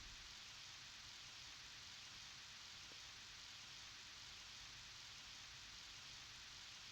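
Rain falls in the farming video game Harvest Moon 64, a steady, even hiss of downpour continuing unbroken and fairly loud throughout, with no other sounds standing out.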